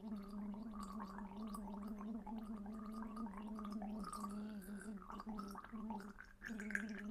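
Someone gargles water at length to stimulate the vagus nerve, a steady bubbling gurgle held for several seconds at close range, alone without talk.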